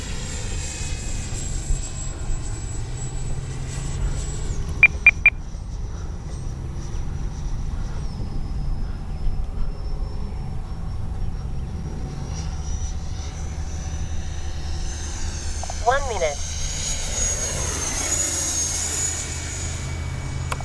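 Freewing A-4 Skyhawk 80mm electric ducted-fan RC jet flying with landing gear up, a steady airy whine that shifts pitch as it passes, fairly distant, with a few short clicks partway through.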